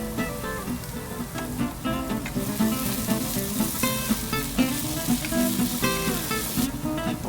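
Garlic and bay leaves sizzle loudly with cooked-down vegetables in a pan for a beef stew, a continuous crackling fry close by with occasional scraping and stirring.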